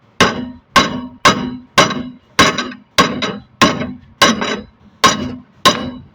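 Steady hammer blows, about ten in a row, knock a part into place on a Renault 9 with sharp metallic clanks at an even rhythm.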